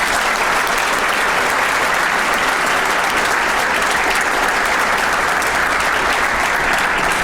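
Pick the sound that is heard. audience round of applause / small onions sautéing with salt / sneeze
audience round of applause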